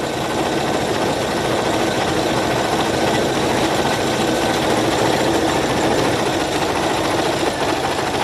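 An embroidery machine stitching an in-the-hoop vacation ears project, a steady dense mechanical whir and rapid needle clatter running loud and continuous, close by and alone with no talk.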